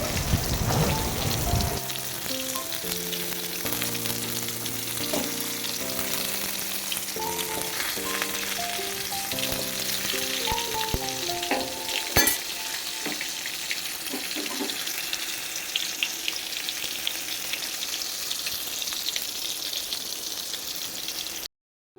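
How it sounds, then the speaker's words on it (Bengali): Oil sizzles and crackles steadily as pieces of pointed gourd fry in a pan, a continuous hiss with scattered pops and a faint melodic tone early on. "পটলগুলো দেখো আমার ভাজা হয়ে গেছে"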